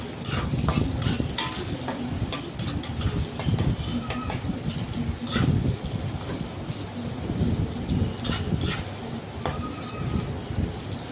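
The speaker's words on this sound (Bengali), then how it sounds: "একটু ভাজা করবো আগে" Fish roe masala fries in a pan, a loud, constant sizzle broken by repeated scrapes and clinks of a spoon stirring, with no voices.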